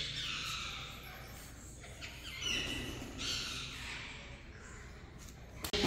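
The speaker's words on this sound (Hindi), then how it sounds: "यहाँ पे पक्षियों की चहचहाट बहुत ज्यादा है" Birds chirp and call faintly inside the Neemrana stepwell, an old multi-storey stone bawdi in Rajasthan, their high tweets echoing over a steady background hush, with a sharp knock near the end.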